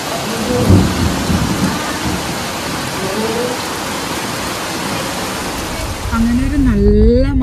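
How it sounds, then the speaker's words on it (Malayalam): A thunderstorm pours heavy rain in a dense, constant roar with low rumbles of thunder rolling underneath, and a voice speaks briefly near the end. "നല്ല ഇടിയും മഴയൊക്കെ പെയ്തത്, അതുകൊണ്ട് നല്ല രസമുണ്ടായിരുന്നു കേട്ടോ"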